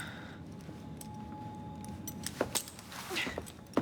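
Keys jangle as they are handed over in the video game Assassin's Creed Syndicate, a few short metallic clinks and rattles late on over a quiet hum.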